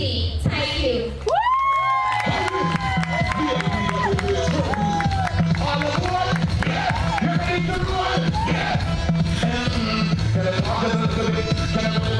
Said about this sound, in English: Give that young lady another round of applause